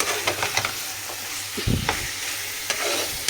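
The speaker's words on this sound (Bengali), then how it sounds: "মাংস মশলা দিকে কষাচ্ছি" Meat being sautéed with spices in a pan for a home-style curry, with continuous close sizzling and crackling and occasional stirring scrapes and knocks against the pan.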